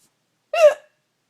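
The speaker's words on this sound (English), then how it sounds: "See if it gets rid of Mom's hiccups." A single sharp hiccup from a woman, loud and close, alone in otherwise silent surroundings.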